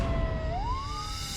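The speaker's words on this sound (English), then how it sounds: "sirens blare as paramedics race to the scene" An emergency vehicle siren wails near and loud, its tone sweeping upward in a single rising glide over a low traffic rumble, with no voices.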